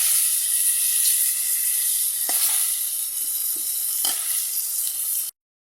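Pangas fish curry fries in a pan with a steady, close sizzle and hiss, broken by a few soft scrapes of stirring, before it cuts off abruptly.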